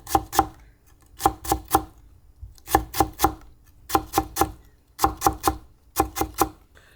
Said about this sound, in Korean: 당근은 조금만 채 썰어서 넣을 거예요